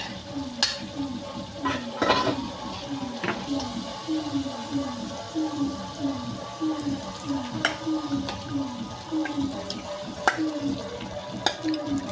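Chicken pieces go into cooked green-chilli masala in a pan, stirred with a utensil that scrapes and clinks in a steady rhythm over a light sizzle, close up.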